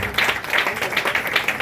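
A church congregation claps together during a worship service, giving a steady, fairly loud patter of hand claps with a loose rhythm that sounds alone.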